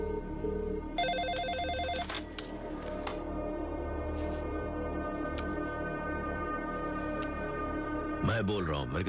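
A telephone rings repeatedly in electronic trilling bursts, fairly close, with a voice and background sounds around it.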